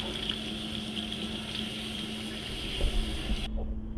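Running tap water streams steadily into a sink while honey is rinsed off, a continuous hissing flow that cuts off near the end.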